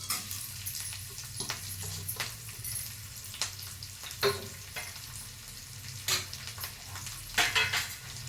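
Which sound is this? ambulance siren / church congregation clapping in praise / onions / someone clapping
onions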